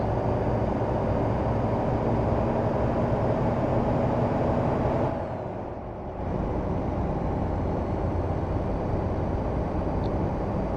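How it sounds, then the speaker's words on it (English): Stock engine of a Mack truck in American Truck Simulator, a steady low drone under a constant broadband hum, briefly dipping quieter midway as if shifting, then resuming at the same level. "I feel like they've reworked the engine sounds in some of the stock trucks."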